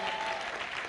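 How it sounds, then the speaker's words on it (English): Audience applause for students graduating from a leadership certificate course at a church gathering, a steady burst of many hands clapping together at moderate distance. "Are you clapping for them?"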